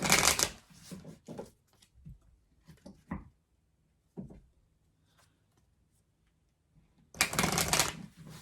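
Angel oracle cards shuffled in bursts, with a dense riffling stretch at the start and a louder one at the end, separated by scattered soft card taps and near-quiet pauses; no talking.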